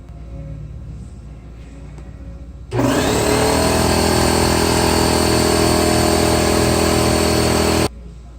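An air compressor filling its tank starts abruptly and runs loud and steady for about five seconds, then stops, in a workshop during scooter belt work.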